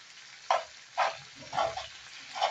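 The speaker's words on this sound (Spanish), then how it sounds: "Primero doramos la carnita, sofreímos la carne." Small pieces of beef for fajitas sizzle in a hot pan, with short bursts of frying noise repeating about twice a second as the meat is stirred.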